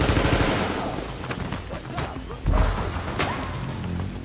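Shotgun blasts in the shooter game The Division, heavy booming shots with clattering combat noise between them, loud and near, one strong blast midway.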